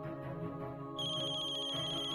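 A phone rings nearby with a melodic electronic ringtone, clear and steady, with bright high tones repeating.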